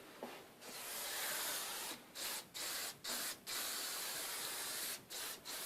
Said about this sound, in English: spray the jam liners up with silicone spray